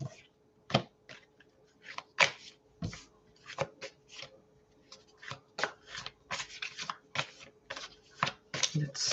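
Tarot and oracle cards being shuffled at a live reading, a run of quick papery riffles and slaps close to the microphone, loosely rhythmic with short pauses between bursts.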